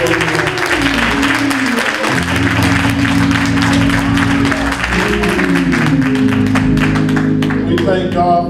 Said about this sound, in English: Come on, clap. Victory clap.